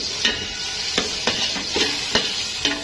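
Dried coriander is stirred into mallow leaves (khobeiza) frying in a pan: a steady, loud sizzle broken by regular sharp scrapes of the spoon, about one every half second.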